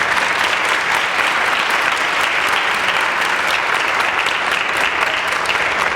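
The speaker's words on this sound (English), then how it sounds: "Let's give them a round of applause." Loud, sustained applause from a sizable audience, steady clapping throughout with no break.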